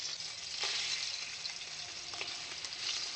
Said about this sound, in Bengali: এবার হচ্ছে সর্ষের তেলে ইলিশ মাছটা ভাজবো